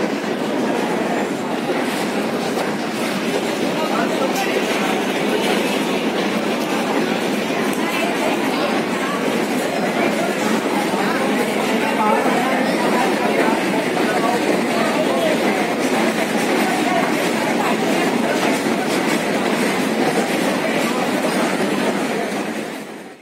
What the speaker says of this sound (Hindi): अंबाला स्टेशन आ चुका है फ्रेंड्स।